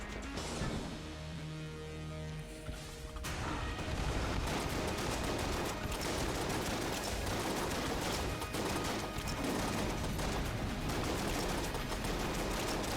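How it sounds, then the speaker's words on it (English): A makeshift cannon firing in the video game Enter the Gungeon, with a dense, continuous barrage of gunfire and crashing impacts after a brief quieter opening. "we can still fire makeshift cannon"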